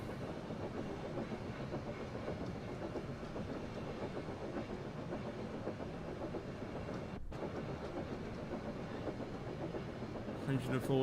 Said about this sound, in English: Thomas the Tank Engine is train sim mod 5